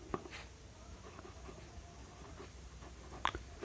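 Handwriting with a pen on paper while solving a class 7 maths problem, soft faint scratching strokes under a quiet room hiss, with a couple of sharper taps at the start and near the end.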